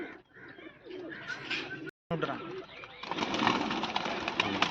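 A female pigeon coos in low, rolling bursts near at hand, with a short dropout midway and people talking over the calls.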